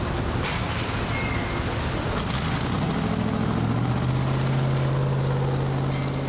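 A Ford 5.4 Triton V8 engine running in a shop, a loud steady drone that settles into an even low hum, with a brief sharper clatter early on.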